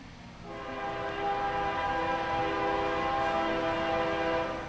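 A CSX Q136 eastbound intermodal freight train passes on two-track main line, its horn sounding a long, loud, steady chord over the continuous rumble of the moving cars.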